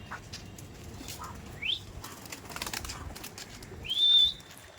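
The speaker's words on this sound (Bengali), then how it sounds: "পায়রাগুলো ছাড়া হচ্ছে দেখুন" Delhi Madrasi pigeons released into the air give soft bursts of flapping wings amid outdoor ambience, with a couple of rising whistle-like chirps, the loudest flutter near the end.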